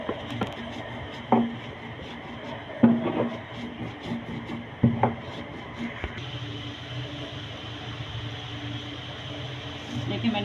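A knife chops coconut and garlic fine by hand on a board. A few sharp, spaced knocks sound against steady room hum, and a voice talks over it.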